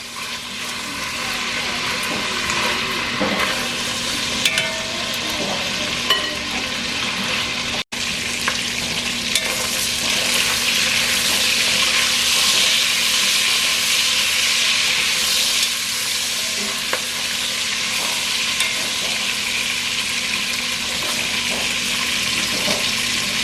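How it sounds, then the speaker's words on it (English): Sausage fries in hot oil in a pot for seafood gumbo, giving a steady, loud sizzle throughout with occasional stirring scrapes and pops. "cook your sausage until it turns brown"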